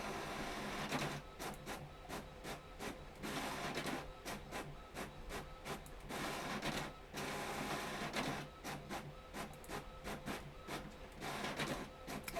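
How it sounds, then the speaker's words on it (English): An inkjet-style printer working through a print job, its carriage whirring and clicking in repeated rhythmic passes separated by brief pauses, fairly close and alone without talk. "my printer can be quite slow sometimes"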